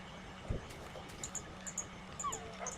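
Tamed Minecraft dogs give soft, brief whimpers and yips, several spread through the stretch with light chirps and game noise between them, fairly faint.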